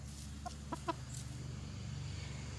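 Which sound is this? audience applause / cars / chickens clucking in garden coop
chickens clucking in garden coop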